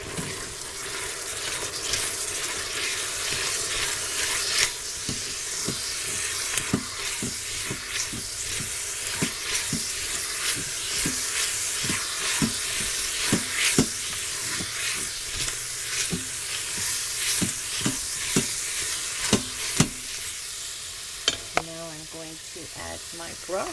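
Flour being stirred into browning beef in an Instant Pot, a steady sizzle with repeated scraping clicks and knocks of the spoon against the pot, close and continuous, with no talking.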